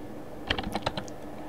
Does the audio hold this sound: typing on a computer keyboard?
yes